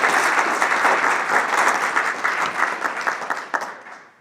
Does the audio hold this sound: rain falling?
no